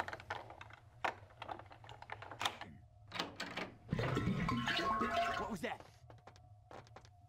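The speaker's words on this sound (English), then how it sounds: "Why does the water make so much noise right when I go by?" Water rushes loudly for a couple of seconds in the video game Vampire The Masquerade: Bloodlines, a sudden gushing swell between clicky game noises, while a player talks over it.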